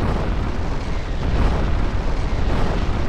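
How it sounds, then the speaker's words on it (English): Airship mortars firing a right-side broadside in Garry's Mod, heard as a dense, continuous roar of heavy booms blending together, loud and low-pitched with no clear gaps between shots. "now we will fire right side in the mortars"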